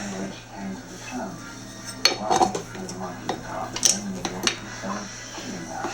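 Stand mixer paddle attachment being pulled off to swap for a dough hook while making cinnamon buns: a few sharp metallic clinks and clatters over low kitchen hum, with a voice speaking in between.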